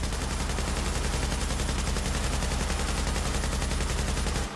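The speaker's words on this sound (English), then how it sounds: "I'm just going to shoot the gun and show you the problem with it." Continuous rapid automatic gunfire from a modified high-end weapon in Tom Clancy's The Division, a loud, unbroken rattling burst lasting several seconds with no pauses and no talk over it.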